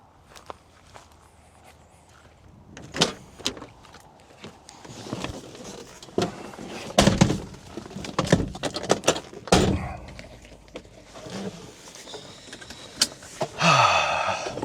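Someone climbs into a well-worn Mercedes W123 300D with about 500,000 km on it: a few footsteps, a door thunk, shuffling and seat creaks, then a door pulled shut, all close and without speech.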